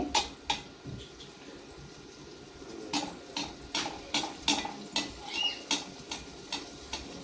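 A spatula repeatedly flicks hot oil over anarsa, a jaggery-sweetened dough frying in a pan, making a regular series of sharp clinks and splashes about twice a second, up close and with no talking.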